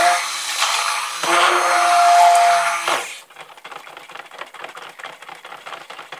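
A stick blender whirs loudly through tea tree soap batter for about three seconds, its motor steady and close, then cuts off, leaving rapid, quieter mixing clicks and taps that continue to the end.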